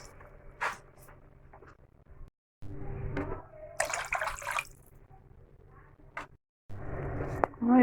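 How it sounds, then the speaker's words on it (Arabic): Water is poured into a pot of Egyptian-style okra stew that has cooked down, making several short splashing bursts separated by brief pauses. It sounds fairly close but moderate in level. "هنحط لها مية."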